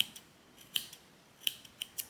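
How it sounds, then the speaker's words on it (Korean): Small thread snips trim a crocheted mesh winter bag made of microfiber yarn, giving five crisp, quiet clicks spaced irregularly and heard alone. "쪽가위로 얘를 좀 다듬어 주셔야 돼요."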